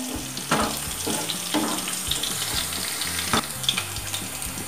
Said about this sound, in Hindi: हरी मिर्च को थोड़ा सा ऑयल में भून ले